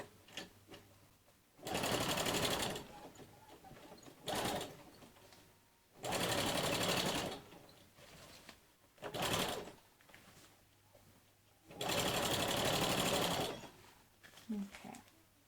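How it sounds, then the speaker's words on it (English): A sewing machine runs a straight stitch through shower-curtain fabric on a cloth diaper cover, in three loud sustained bursts of stitching separated by short pauses, with quieter handling noise in between. "I will go ahead and do a quick straight belly stitch around the panel to close that"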